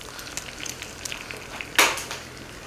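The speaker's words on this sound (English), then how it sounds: "And we're just going to fry these eggs." Eggs fry quietly in a pan with a soft steady sizzle and light crackles, then a brief louder burst of spitting near the end.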